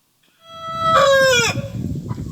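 A rooster crows once, loud and close, rising into a strained peak and trailing off, alone after a quiet start.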